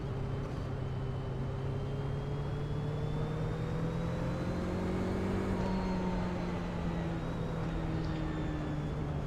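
Radical SR8 race car in iRacing at Imola, its engine droning steadily down the start-finish straight with slowly rising and falling pitch, close and continuous with no pauses.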